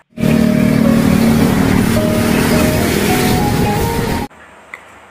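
A toy swaying bus runs with a loud, continuous whirring motor and sustained horn-like tones for about four seconds, then cuts off abruptly into near silence.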